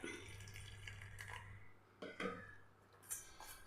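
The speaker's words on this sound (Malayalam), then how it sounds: "ഇനി ഇതിലേക്ക് നമ്മൾ ഒരല്പം ഉപ്പും കൂടെ ചേർത്തിട്ട് വെള്ളം ഒഴിച്ചു കൊടുക്കാം" Water trickles and splashes faintly into a bowl of maida flour and salt, with a few brief clinks of utensils near the end and a low steady hum underneath; no one speaks.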